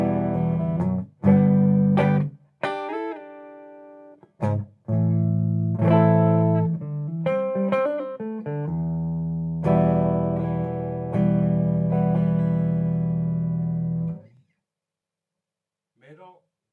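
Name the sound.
Tokai ES335 semi-hollow guitar through Laney Lionheart, clean channel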